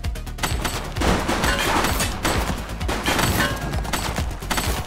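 Rapid gunfire from a shootout in The Precinct, a police detective game, rattles in loud sustained bursts with scattered single cracks, close and busy, with no clear talk over it.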